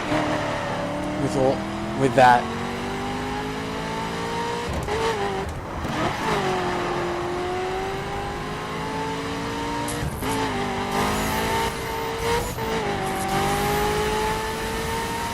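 Cars driving in The Crew, engines revving and rising in pitch with repeated tire squeals, loud and close, while someone talks over the action.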